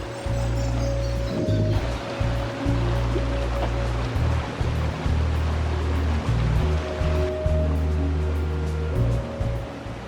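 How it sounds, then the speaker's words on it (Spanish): Water rushes steadily over small falls and through irrigation channels along a river, a continuous close churning roar with a strong low rumble and faint steady tones over it. "Hay allí algunos puentecitos, saltos de agua y acequias"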